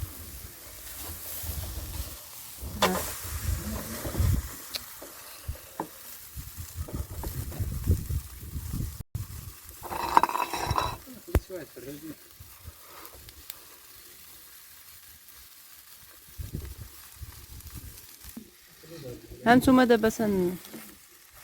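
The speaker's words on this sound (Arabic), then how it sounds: "انا تنشوي دابا" Meat frying and sizzling in a pan at home, a steady faint crackle running under intermittent nearby talk, with brief louder bursts partway through.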